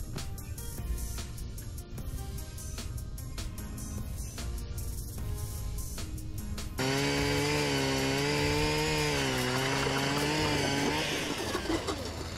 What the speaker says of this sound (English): that is our first drilled hole in the ice